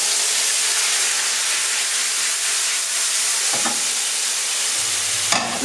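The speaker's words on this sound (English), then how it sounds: "what we're going to do is we're going to get our Spätzle in the pan" Spätzle frying in browned butter in a hot pan: a loud, steady sizzle and hiss throughout, broken near the end by a short stir or toss that shifts the sound before the frying resumes.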